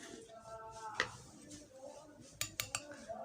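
A spoon scrapes and clinks against a bowl while mixing a stiff Vaseline paste, with a few sharp metallic taps near the end and soft talk underneath.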